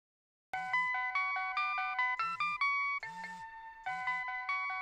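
A mobile phone rings with a bright, repeating electronic melody tone, loud and close, starting abruptly and cycling through its tune several times without pause.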